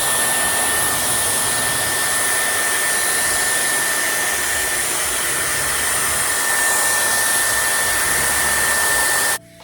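A Dyson Airwrap hot air styler blows steadily on a section of hair, a loud, close, unbroken whooshing roar with a high whine, cutting off abruptly at the end.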